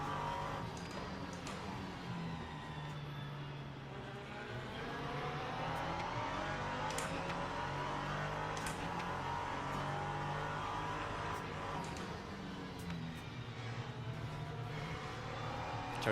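Race car engines in the Le Mans Ultimate racing sim, including an LMP2 prototype, whine and rev steadily under wind and tyre noise, fairly quiet and continuous with no voices over them.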